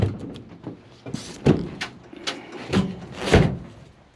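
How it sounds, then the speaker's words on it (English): An old Austin car door is opened from inside by pulling a chain, giving a series of metallic clunks and rattles with a few sharper knocks, close and fairly loud, with no speech. "pull that chain to open the door"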